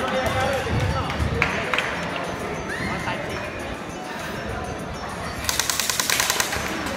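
An airsoft gun fires a rapid full-auto burst near the end at an outdoor school airsoft competition, following earlier scattered pops, with people talking throughout.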